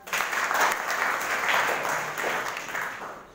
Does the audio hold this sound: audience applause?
yes